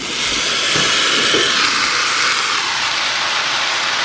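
Canned kidney beans drop into a hot pan, a loud, steady broadband sizzle and hiss that swells briefly at the start and then holds evenly, with no voices.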